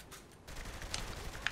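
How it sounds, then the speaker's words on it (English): Gunfire from the Saints Row 3 video game rattles faintly and continuously, a low, distant volley of rapid shots with a few sharper cracks poking through. "Who's shooting me?"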